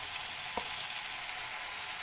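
Onion, garlic and tomato sizzling steadily in hot oil in a pan as turmeric goes in, a continuous bright frying hiss with a brief scrape of stirring.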